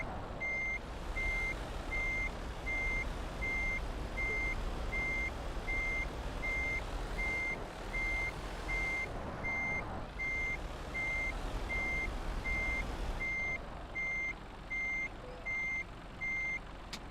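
A truck in Euro Truck Simulator 2 reverses to park, its backup alarm beeping in a steady, evenly spaced rhythm over a constant low engine rumble.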